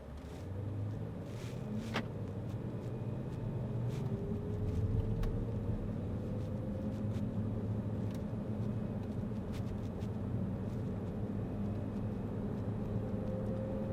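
A white 2015 Range Rover pulls away and drives on, a steady low engine and road rumble heard from inside the cabin, smooth and even throughout with faint tonal whines rising over it.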